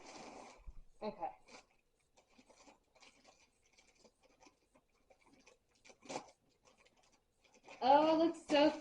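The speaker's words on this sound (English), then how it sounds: "I need some scissors." Scissors snip and scrape through a package, making sparse, short, dry cuts and scratches at close range in a quiet room. A voice begins talking near the end.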